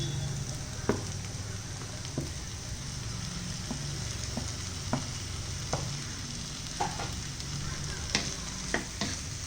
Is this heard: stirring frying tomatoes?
yes